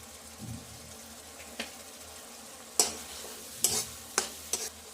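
Tomato and turmeric fry in a pan while being stirred for a cashew paneer dish. A soft, low sizzle is broken by several sharp spatula scrapes and clinks against the pan, heard close up and without voices.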